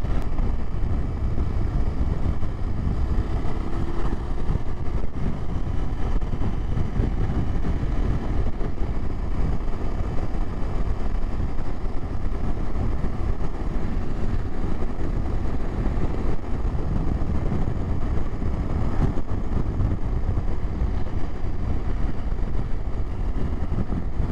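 A KTM 1290 motorcycle engine runs while riding, still warming up and not pushed hard, a steady low rumbling drone with constant wind rush, close and continuous throughout with no voices.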